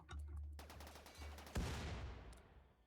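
Gunfire in the sci-fi colony game RimWorld, a burst of rapid shots under a steady low hum, then a louder crack near the middle that rings out and fades.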